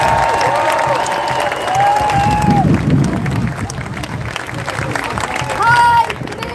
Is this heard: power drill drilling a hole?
no